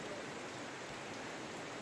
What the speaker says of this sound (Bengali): বাইরে চলছে মুষলধারে বৃষ্টি